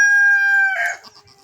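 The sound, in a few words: rooster crowing and clucking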